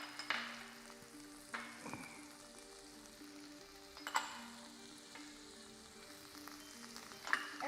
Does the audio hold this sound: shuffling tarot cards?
no